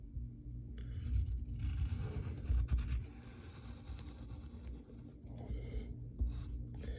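A pencil draws Chowder's tail on paper, giving steady soft scratching and rubbing strokes close up with brief pauses, and no one speaks.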